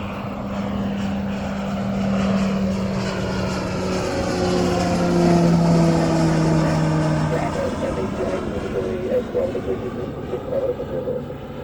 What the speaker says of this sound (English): Right, got another PC-21 taken off.